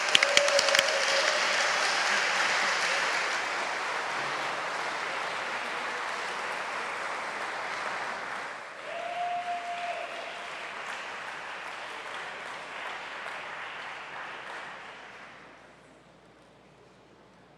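Sustained crowd applause at an awards ceremony rolls on for many seconds, a whistle cutting through near the start and again midway, before the clapping thins out and fades near the end.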